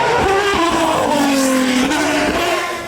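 A loud, high-revving Aston Martin Valkyrie hypercar engine screams close by at Goodwood Festival of Speed, its pitch climbing and sliding as it passes.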